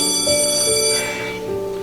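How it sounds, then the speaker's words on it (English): A school bell rings with a sustained, steady electric ringing of overlapping tones, loud and alone, fading slightly toward the end. "That's a school bell."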